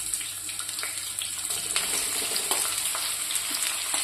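Cumin seeds and onion frying in a pan for cabbage palya, a steady close sizzle with small crackles running throughout, no talking.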